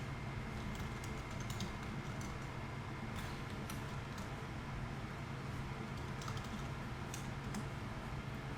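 Quiet, close keystrokes tap out code on a computer keyboard in short irregular bursts, faint clicks over a low steady room hum, with no voice.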